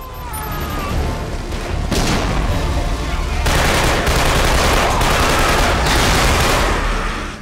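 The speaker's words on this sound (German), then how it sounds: "Wir sind unter schwerem Beschuss, Rico." Heavy gunfire in Killzone 2, a continuous dense barrage of rapid automatic shots mixed with booming impacts and crashes, loud and close, growing fuller partway through, with no talking.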